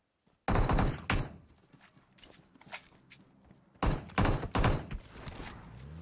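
Bursts of gunfire in the PUBG battle game, loud, sharp volleys in two clusters with quieter scattered shots between them, no talking.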